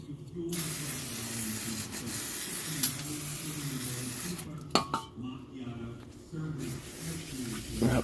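Aerosol brake cleaner sprayed onto spilled oil on the ground in a diesel repair shop gives a close, steady hiss in long bursts broken by short pauses, with low voices talking underneath.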